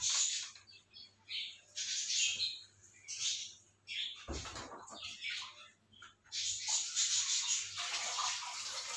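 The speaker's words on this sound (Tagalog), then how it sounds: "So, maglalagay po tayo ng kaunting tubig." A small amount of water is poured over papaya and passion fruit seedlings newly transplanted into a pail outdoors, a close, splashing trickle in uneven bursts with birds chirping around it.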